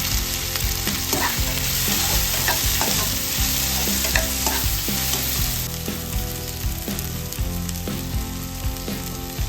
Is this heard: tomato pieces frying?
yes